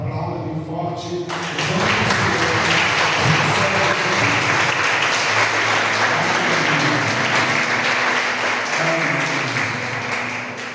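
Church congregation applauding loudly at a celebration service, a sustained thick wash of clapping rising after a brief spoken line and continuing to the end.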